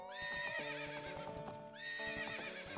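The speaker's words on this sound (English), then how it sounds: "Ponies at Lon Lon Ranch." Ponies at Lon Lon Ranch in the video game Ocarina of Time give two loud, bright whinnies, each a rising call sliding downward, with rhythmic hoof clops beneath.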